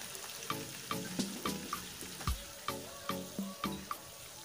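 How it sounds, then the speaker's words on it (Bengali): Capsicum and other ingredients fry with soy sauce in a pan, a spatula knocking and scraping in a steady rhythm of about a dozen close strokes over a soft sizzle. "এখন আমি সবগুলো উপকরণ ভালো করে একটু ভেজে নিব।"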